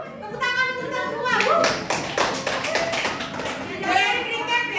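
A school class clapping hands together in a burst of rhythmic claps, with children's voices and an adult speaking over and between the claps.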